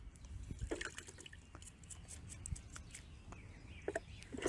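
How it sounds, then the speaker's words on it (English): A soft toothbrush scrubs mud off a quartz crystal in plain water, giving faint wet bristle scratches and small drips and splashes that come in irregular bursts, close by and quiet. "this is a soft toothbrush, so I'm just brushing away some of that mud"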